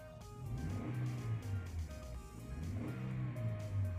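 Engine noise from a Daihatsu All New Terios heard inside the cabin, a steady low drone with rising and falling revs while driving.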